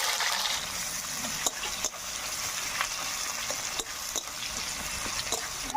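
Chopped onion fries in hot oil in a pan for cabbage and potato curry, a steady close sizzle with occasional stirring clicks and scrapes.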